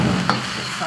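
Yellow chives being stir-fried in a pan, a short soft sizzle with a brief scrape of the spatula, fairly quiet and with no voices.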